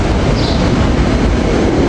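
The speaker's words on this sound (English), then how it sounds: "Here we have Fox Chase train 846 coming in a little late." A Fox Chase commuter train, number 846, rolls into a station with a loud, continuous rumble and rail noise close by throughout, with no voices.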